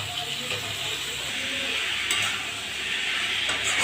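Garam masala and salt being sautéed in a pan, a soft steady sizzle and hiss with light stirring, fairly close and continuous, with faint background noise.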